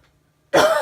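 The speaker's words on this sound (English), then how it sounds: "I'm gonna cough." A single loud, close cough bursts out abruptly after near silence, harsh and throaty like a throat clearing, lasting under a second.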